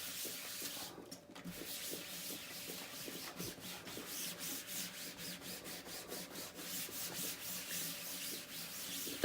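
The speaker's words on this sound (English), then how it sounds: "I'm just taking wipes. These are Lysol wipes. Can you guys see that? Okay. And I'm just going to rub over this transfer." A Lysol wipe rubbed back and forth over a chalk transfer on a throw pillow, making a soft, quiet, rhythmic scrubbing that repeats steadily with no speech.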